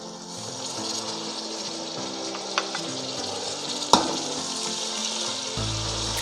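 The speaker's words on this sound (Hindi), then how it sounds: "टमाटरों को हम अच्छी तरह भूनेंगे ताकि ये नरम हो जाएं।" Chopped tomatoes frying in a pan for green chana pulao, a steady hiss and sizzle close by with a couple of soft clinks and a low hum toward the end.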